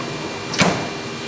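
A single short clack of a CNC sharpening machine door shutting, close by, over a steady mechanical hum in a bit and blade sharpening shop.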